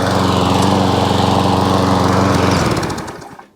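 A salvaged lawnmower's engine runs loud and close at a steady high drone, a fast regular putter that holds for a few seconds, then winds down and cuts out.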